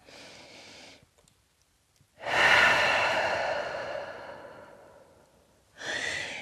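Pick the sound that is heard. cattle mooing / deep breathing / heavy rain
deep breathing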